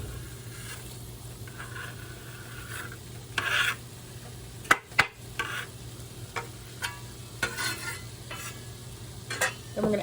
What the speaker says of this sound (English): we're going to add our onion into our ground venison